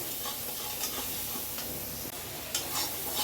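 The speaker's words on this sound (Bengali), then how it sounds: "এবার মশলাটা ভালো করে কষিয়ে নেব" Spice paste of coriander powder, cumin powder and Kashmiri red chili powder being stir-fried in oil, giving a steady close-up sizzle with soft scraping stir strokes and no talking.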